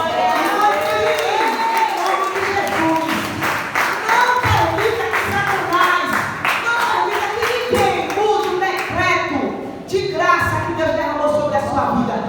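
A church congregation claps in rhythm during worship, a loud, steady pulse of many hands under music and singing voices.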